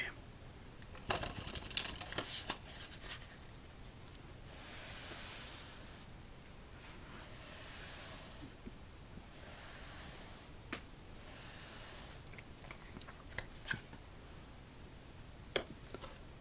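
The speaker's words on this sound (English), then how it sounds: "one more shuffle" Quiet riffling of a Little Atlantis playing-card deck during a solitaire session, several soft papery shuffle bursts with short pauses between them, close and faint, no voices.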